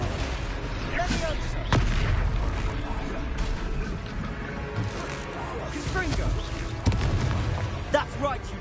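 Confringo blasting spells and explosions in the Hogwarts Legacy video game, sharp booming blasts amid combat noise, with several loud impacts and game voices talking.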